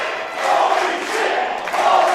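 A wrestling crowd at a Relentless Wrestling show roaring for Nic Zander after his leaping move, a sustained mass of cheers and shouts swelling and dipping, loud and close.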